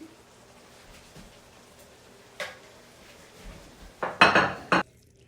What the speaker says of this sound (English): Let's dish some out.